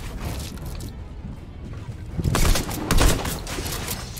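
Gunfire crackles in a battle royale video game, with a continuous rattle of shots under game noise and two louder bursts near the end.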